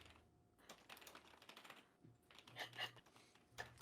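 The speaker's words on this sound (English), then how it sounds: "So sorry, I'm just typing a quick message." Someone types on a computer keyboard in rapid, uneven bursts of clicky keystrokes, quiet and close, with no voices.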